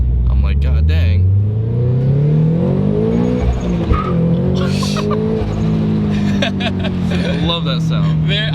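A turbocharged Subaru BRZ on a stock-block engine accelerates hard, its loud exhaust note climbing steadily and continuously throughout, close by.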